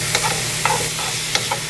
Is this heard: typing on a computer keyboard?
no